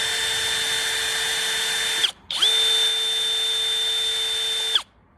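A cordless 18-volt battery rivet gun whines loudly at a steady high pitch for about two seconds, stops briefly, then runs again for over two seconds before cutting off, close and with no talk.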